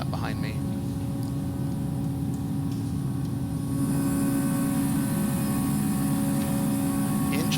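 Steady roar of airliner jet engines in an X-Plane flight simulator with a Toliss Airbus A321 and FTSim sound pack, a continuous loud drone that brightens with more high hiss partway through.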